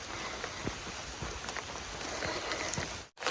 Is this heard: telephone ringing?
no